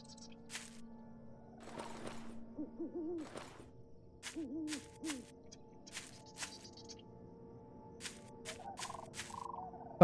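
Pigeon cooing in the survival game Night of the Dead, repeated soft owl-like hoots spaced out over several seconds, mixed with scattered sharp clicks and thumps of gameplay.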